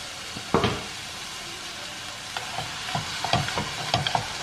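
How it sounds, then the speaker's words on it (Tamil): Onion, tomato and green chili fry in a pan with a quiet sizzle, punctuated by a sharp scrape and then a run of spatula stirs toward the end, nearby with no voices. "வெங்காயம் தக்காளி பச்சை மிளகாய் இதை வந்து ஒரு 2 மினிட்ஸ் ஃப்ரை பண்ணிடலாம்"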